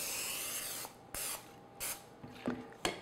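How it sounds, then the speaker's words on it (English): Non-stick cooking spray hisses into a cake pan in several short bursts, each a sharp close hiss separated by brief pauses, with a few soft handling clicks in between and no talking. "I'm just going to spray it with one of these non-stick sprays."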